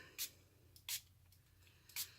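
Three quick hissing spritzes from a water spray bottle misting cardstock, spaced unevenly, close and fairly quiet against a faint background hum.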